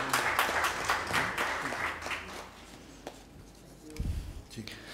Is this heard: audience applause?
yes